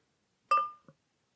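Stella Artois unfiltered lager going into a Stella glass: one sharp clink with a short ringing tone, then a softer second tap, close and brief in a quiet room.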